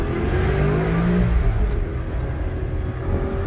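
A Maserati 3200 GT engine revs loudly and close, its pitch rising and easing as it slows through a bend, then pulling hard again.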